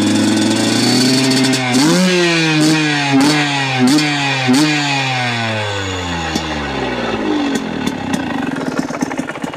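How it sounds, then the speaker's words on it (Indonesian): A Naro ND 150E trail motorcycle engine rides around an avocado orchard in Lampung, loud and close, with a series of rhythmic revs early on that then wind down into a lower, fading run. "Saatnya saya nyobak motor Naro keliling kebun."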